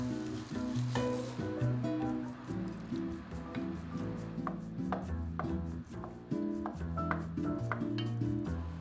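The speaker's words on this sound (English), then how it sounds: "Using your spoon, break up the tomatoes" A spoon crushes canned whole tomatoes in a pot, with wet squishing and scraping knocks against the pot in an irregular rhythm. A low background tone runs beneath.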